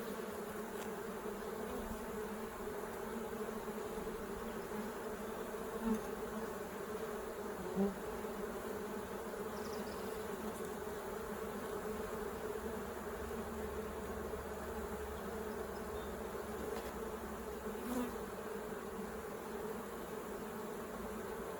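Honey bees hum in a dense, continuous drone around an open beehive, a steady close swarm buzz with no voices.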